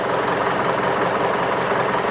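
A Mitsubishi Triton with a 4D56 diesel engine, which has had an overheating problem, runs steadily, its broadband clatter holding at an even, fairly loud level with no talk throughout.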